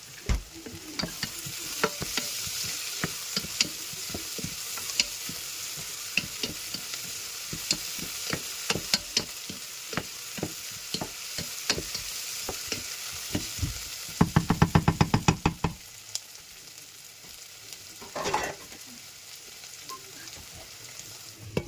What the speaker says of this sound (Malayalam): ഇനി നമുക്കതൊന്ന് ഇളക്കി ഒന്ന് മിക്സ് ചെയ്യണം.